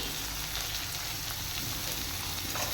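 Onion and tomato with spices fry in a pan, giving a dense continuous sizzle at close range with no talking over it.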